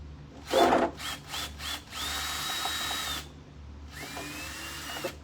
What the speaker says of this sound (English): If you hear that little clicky clicking, slow your roll, slow your drill roll.